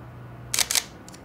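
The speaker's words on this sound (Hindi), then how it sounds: "अभी मैं आपको सुनाता हूँ वो क्लिक किस तरह का साउंड करता है" Two quick mechanical shutter clicks from a camera, each a sharp double snap close to the microphone, with a fainter third tick afterward over a quiet room hum.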